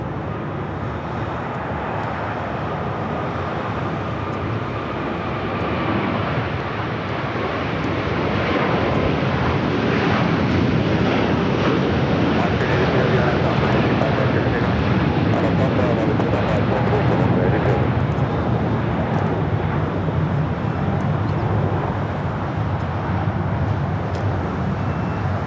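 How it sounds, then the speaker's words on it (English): An Airbus A350-1000 jet at LAX rolling for takeoff from runway 25 right: a broad, loud engine roar that swells and holds steady, with talk faintly underneath. "Big Q, A350-1000, now rolling down to 25 right."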